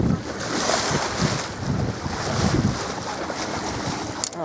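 A sailboat cruises across a bay in light wind, with steady wind rush and water wash against the hull running continuously and fairly close.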